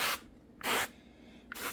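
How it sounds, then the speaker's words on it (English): Three short hissing bursts of avocado oil from a spray can onto a warm griddle, each about a quarter second long with quiet gaps between, close and crisp. "Like I said, I'm using an avocado spray oil."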